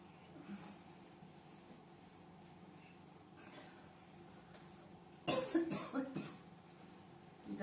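A few short, sharp coughs in a quick cluster, close and moderately loud, after a stretch of quiet room tone.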